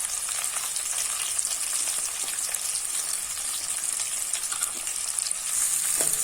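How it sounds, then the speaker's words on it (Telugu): Onions fry in a pan with a dense, bright sizzle that runs continuously and close, flecked with small crackles and spatters. "ఆనియన్ కూడా బాగా ఫ్రై అయ్యేంత వరకు వేయించుకుందాం"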